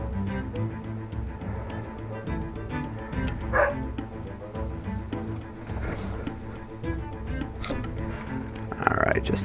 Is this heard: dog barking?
yes